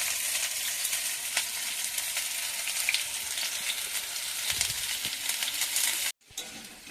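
Potatoes sizzle and crackle in hot oil in a pan until reddish, a loud continuous frying hiss that cuts off abruptly near the end.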